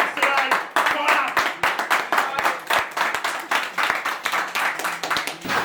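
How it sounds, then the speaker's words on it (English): Teammates from an Australian Sunday League football club clap for a player in a close group, a brisk rhythmic run of sharp nearby hand claps with voices mixed in. "Round of applause for Andy."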